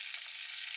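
Garlic frying in hot oil with cumin, mustard seeds and curry leaves, a steady close bright sizzle throughout this brief moment.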